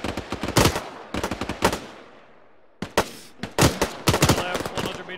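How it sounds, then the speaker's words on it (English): Rapid bursts of machine gun fire in the Arma 3 military sim, loud and close, in clustered volleys with a short lull midway before firing resumes. "Right, get rapid fire out on him."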